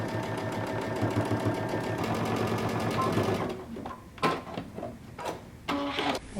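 Sewing machine running a sleeve and side seam at a 5/8-inch allowance on a jumpsuit: a close, steady rapid whir for about three seconds, then it halts and scattered clicks and fabric handling sounds follow.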